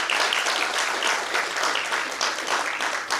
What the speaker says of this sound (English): Miss Dorothy Tankersley, let's give her another round of applause.